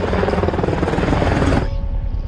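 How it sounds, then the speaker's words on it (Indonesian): A loud helicopter flies close by as a film sound effect, its rapid rotor chop pulsing evenly before the sound cuts abruptly to a quieter hum. "malamnya Louis dijemput oleh sebuah helikopter ke lokasi keberadaan benda"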